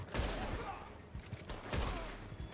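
Rapid volleys of carbine repeater rifle shots in the Western game Red Dead Online, loud repeated cracks overlapping into a steady crackle of gunfire with a few sharper bursts.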